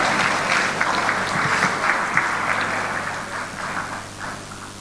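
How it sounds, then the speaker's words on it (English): A townhall meeting audience breaks into a sustained round of clapping, a dense, even wash of applause that slowly tapers off, with no voices over it. "Please give her another round of applause"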